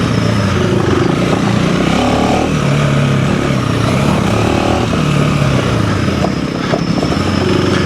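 A Honda CRF300L or KTM 390 Enduro R dual-sport motorcycle riding off road, a loud, continuous single-cylinder engine drone with shifting revs and wind rush, heard close from the rider's position.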